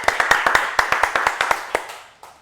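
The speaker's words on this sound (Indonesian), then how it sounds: "tepuk tangan dulu untuk kelompok 1" A small classroom group claps for the first team during an Islamic religious education microteaching session, with about fifteen distinct, fairly loud hand claps in a brisk, slightly uneven rhythm that tapers off near the end.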